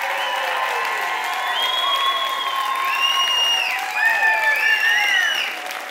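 Studio audience at a French-language game show applauding and cheering, a continuous wash of clapping under several long whistles and shouts, steady and fairly loud throughout.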